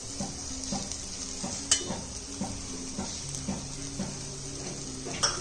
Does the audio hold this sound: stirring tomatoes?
yes